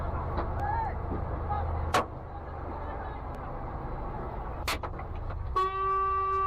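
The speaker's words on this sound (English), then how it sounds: "Yeah, because he was honking." A car horn blares once near the end as a sustained, bright tone, after a couple of sharp, short bangs over a low background rumble of traffic.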